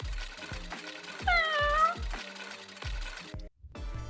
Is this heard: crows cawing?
no